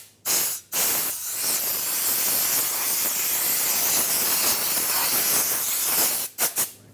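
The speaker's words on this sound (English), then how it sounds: "Dry it off with compressed air if you have access to it." Compressed air hisses hard and loud over a rear brake rotor from a 2003-2009 Dodge Ram 2500, one long continuous blast framed by brief sharp puffs at the start and end.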